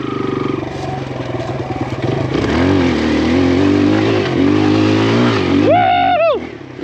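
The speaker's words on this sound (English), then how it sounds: "We got her in second gear right now" Kawasaki KLX140RF dirt bike climbing a hill in second gear, its small engine droning loud and close, the pitch rising and wavering under load before a sharp rev near the end.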